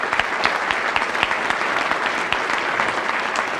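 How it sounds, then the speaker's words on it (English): An audience at a touchdown club luncheon breaks into sustained applause, a dense, close patter of many hands with sharper individual claps standing out, continuing steadily throughout. "So let's give Chris a round of applause."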